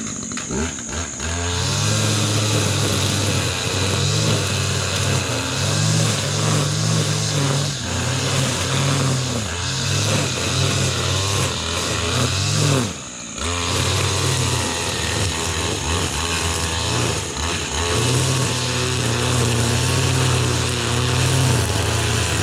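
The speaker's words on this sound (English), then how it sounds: "Using my Stihl KM94 line trimmer, running a speed feed" A Stihl KM94 line trimmer with a speed-feed head cuts along backyard edges, its small two-stroke engine whining loud and steady for the whole stretch with brief dips in revving and one short cut-out midway.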